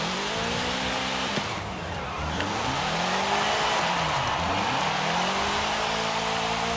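A Polaris RZR XP 1000 UTV from 2015, tuned for all-wheel-drive drifting, revs hard in second gear while sliding sideways, its engine pitch climbing and falling in repeated sweeps, close and loud throughout.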